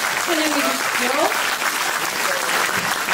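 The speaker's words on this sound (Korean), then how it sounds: "큰 박수로 정훈님을 다시 한번 환영해 주십시오" Audience at a Korean book concert applauding warmly, dense steady clapping throughout with a voice carrying over it briefly early on.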